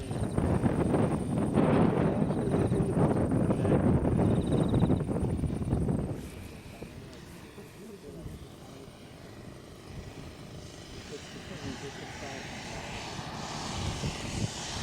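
A 40% scale Jungmeister aerobatic biplane model flies overhead, its engine a loud buzzing drone that fades sharply partway through, leaving a distant hum mixed with wind noise; no voices are heard.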